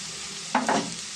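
Deep-fried okra pieces being stirred in a pan for a Telugu okra fry, a soft sizzle interrupted by two quick scraping strokes of a spoon near the middle.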